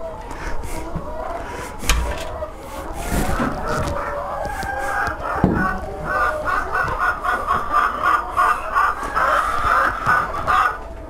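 Chickens at feeding time: a flock clucks and squawks continuously nearby, with busy rhythmic clucking building in the second half and occasional louder calls, plus scattered knocks and rustling.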